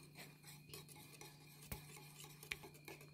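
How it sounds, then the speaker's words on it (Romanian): A spoon stirs milk into a mixture in a bowl. The stirring is soft and steady, with light scraping and an occasional clink of metal against the dish, quiet and close, with a low constant hum underneath. "Acum iar amestecăm."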